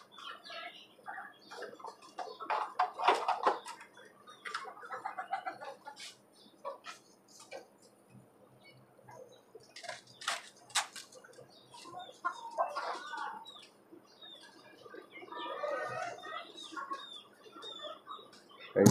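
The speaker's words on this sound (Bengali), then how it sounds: "এইখানে আমার আরো কিছু মোরগ আছে" Country chickens and roosters on a rooftop farm cluck and call in scattered, overlapping bursts, some sharp and near, with a few louder squawks and brief wing flutters between quieter stretches.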